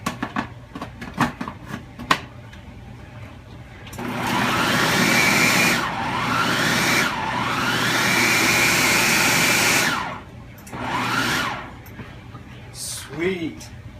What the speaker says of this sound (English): the food processor does a good job at taking care of things